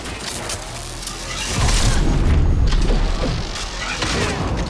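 A unique shotgun in a first-person shooter video game fires with a heavy, loud boom that swells midway and rolls into a thick, rumbling tail, with no talking.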